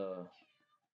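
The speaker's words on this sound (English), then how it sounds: "That's my cat." A single short cat meow, close and fairly quiet, fading quickly into silence.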